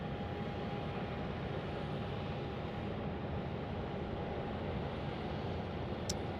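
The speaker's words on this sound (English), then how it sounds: "I've got a little GA single engine plane landing" A small single-engine general aviation plane lands at Tucson International Airport, its steady engine drone heard at a distance as a continuous hum with a faint tonal whine, no talk over it.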